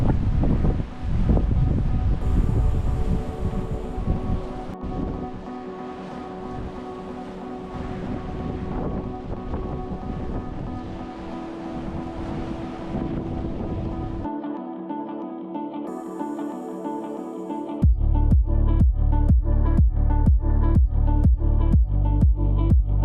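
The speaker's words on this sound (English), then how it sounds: "It is very windy though, very windy." Strong wind gusts roar across the microphone at Cape York, a steady broadband rush for most of the stretch before giving way to other tonal, rhythmic sounds toward the end; no one speaks.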